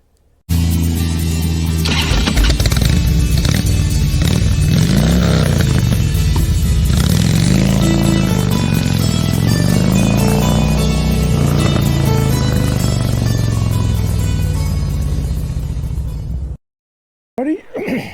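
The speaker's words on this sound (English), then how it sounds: "Now we'll go for a ride." A 2013 Harley-Davidson Dyna Wide Glide rides on a cold day, its engine rumbling loud and close with rising and falling revs as it accelerates and shifts, continuing steadily before cutting off near the end.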